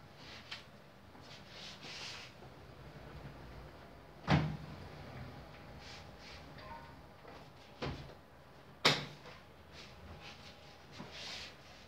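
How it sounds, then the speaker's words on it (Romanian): An interior sliding door with three mobile panels, each running on its own separate rail, glides and knocks shut in several sharp thuds spaced across a quiet room, with faint rolling between them. "Vă fac o mică prezentare a ușii culisată cu 3 foi mobile."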